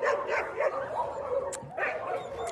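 Stray dogs at a mountain shelter bark, yip and whimper close by in a run of overlapping calls, with a sharp higher yelp partway through.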